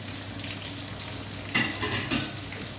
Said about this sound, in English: and then we stick the onions in